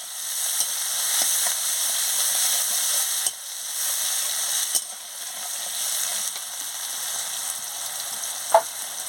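Chopped onions frying in oil, giving a loud, even hiss of sizzling that runs throughout, with a few light scrapes and clicks from stirring and one sharp clink near the end.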